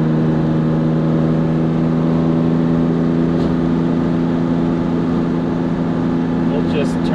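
A Jaguar E-Type coupe's engine drones steadily in third gear at about 3,200 RPM on a hilly country road, a constant loud hum heard from inside the car with no break.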